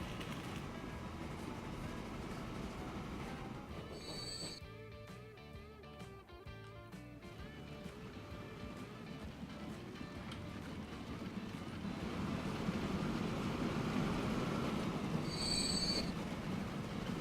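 A freight train in the video game Transport Fever, set in the early 1890s, rolls along the rails with a continuous low rumble and drawn-out metallic wheel squeals, swelling louder toward the end.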